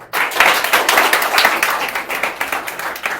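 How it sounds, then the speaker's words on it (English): An audience in a classroom-style activity claps, dense steady applause from a group that is fairly close and loud for the whole stretch. "Let's clap for Mr. Niaz Ali."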